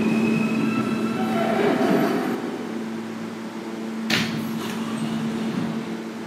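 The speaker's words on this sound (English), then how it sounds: "This is a Manhattan-bound F Express train." A Manhattan-bound F Express subway train rumbles steadily at 21st Street–Queensbridge station, New York, with a constant motor hum, then a sharp hiss of air brakes or doors bursts out before the rumble continues.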